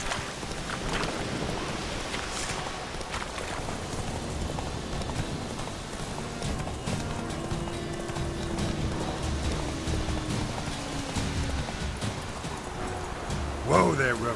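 Roach the horse clip-clopping along in The Witcher 3, hoofbeats under rain and distant thunder, with game voices speaking over them.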